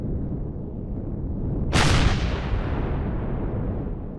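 A rocket launcher fires at enemy base defenses in the game Empyrion Galactic Survival: one sharp, loud blast that fades into a long rumbling tail over a steady low background rumble.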